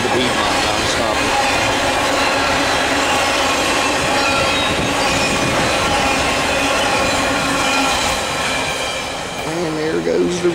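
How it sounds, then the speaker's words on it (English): A northbound Norfolk Southern intermodal freight train led by an AC45CCTE and an SD70M-2 thunders past close by at Charlotte Junction on the Piedmont line, a continuous loud roar of wheels and rail with squealing tones riding on top. "The hottest intermodal, northbound intermodal on the Piedmont."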